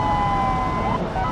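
Police siren wailing in a driving video game during a chase, a steady electronic tone sounding loudly and continuously through a short moment.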